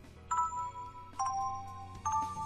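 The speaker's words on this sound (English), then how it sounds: "It's already the warning bell, but I got up early." A school warning bell chime from the Gakuen Heaven 2 video game: three bright two-tone chime bursts in steady succession, moderately loud over a low background hum, with no talking.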